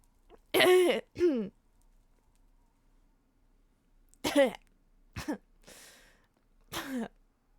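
Several short, harsh coughs and throat-clearing bursts from a Minecraft roleplay, close to the listener, two early, then a cluster of three or four after a quiet pause.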